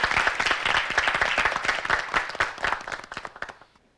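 Audience applause welcoming a high school debater at a televised national assembly debate contest, dense steady clapping from a crowd that holds for about three seconds and then fades out.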